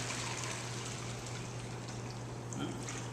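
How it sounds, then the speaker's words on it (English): Water from a large jug poured into a pot holding three pounds of dried beans for soaking, a steady continuous gushing and splashing pour close by with no talking. "pour the water in here."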